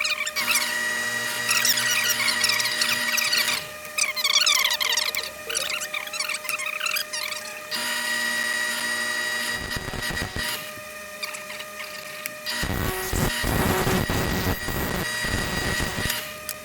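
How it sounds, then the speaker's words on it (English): A drill press drilling through a pen blank in a home pen-making workshop, a loud continuous whining motor and cutting squeal that runs steadily with a few rougher, grinding bursts near the middle and end. "place it under where you're going to drill on the drill press. And go ahead and turn it on and punch right through it."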